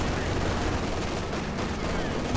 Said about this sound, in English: And we've got a flak panzer from Stay Home.